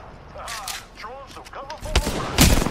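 Gunfire in the video game Apex Legends: a couple of sharp shots near the end, under a voice talking over faint game ambience.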